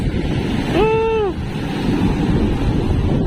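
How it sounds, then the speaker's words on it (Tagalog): Big ocean waves and surf wash steadily around a small boat, with wind rumbling into the microphone; a brief rising-and-falling harmonic tone, probably a voice, cuts through the roar near the start. "Napakalaki po ng alon dito."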